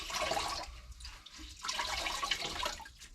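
Water splashing and streaming onto a new steel body panel of a K5 Blazer during rust-prevention work, a steady close wash that surges and ebbs with no talking.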